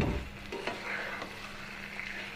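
Pointed gourd being stirred in mustard sauce in a pan, with a soft continuous sizzle and faint scraping strokes, fairly quiet and steady with no voices.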